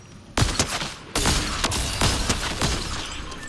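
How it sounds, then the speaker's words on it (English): Gunfire in the video game Fortnite crackles in loud, dense bursts, a sudden volley followed by a second longer stretch of rapid overlapping shots. "someone's shooting!"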